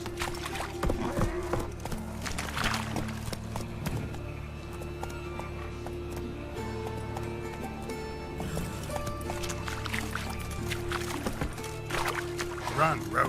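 Galloping hooves of a horse in The Witcher 3 video game, a steady rapid clip-clop running throughout beneath game music and ambient sound, with a voice speaking over it.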